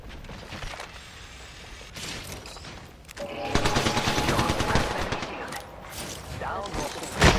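Video game gunfire during a shooter match, bursts of rapid automatic fire and shots that grow louder and denser midway, with a voice speaking over the action.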